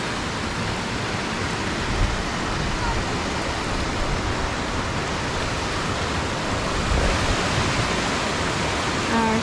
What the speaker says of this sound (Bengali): আর এটা হলো জিউস ওয়াটারফল, পাশ থেকে জলটা আসছে।